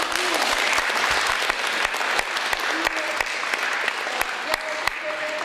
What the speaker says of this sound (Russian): Ваши бурные аплодисменты Санкт-Петербургу.